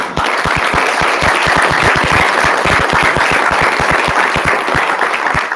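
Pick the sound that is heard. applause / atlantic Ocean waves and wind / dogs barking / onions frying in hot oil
applause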